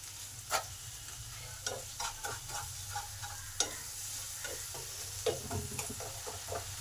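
Masala stirred and fried in a pan for Bengali doi begun (eggplant in yogurt), with a little water added: steady close sizzling under repeated scraping stirs and clicks, no talk.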